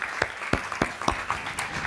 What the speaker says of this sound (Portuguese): eu peço uma grande salva de palmas pela pessoa que é